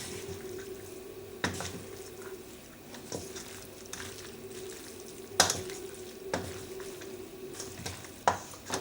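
Noodles being stirred in a pot on a home stove, a soft steady scraping and sloshing under a faint sizzle, with a few louder knocks and clatters of the utensil against the pot.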